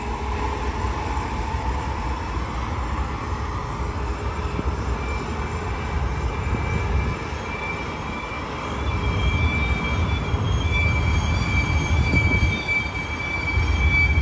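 A westbound freight manifest train, led by ET44C4 and Dash 9 locomotives, rolls past on main track 3 at Verdemont, San Bernardino, with a steady, close rumble and faint squealing wheel tones that swell toward the end.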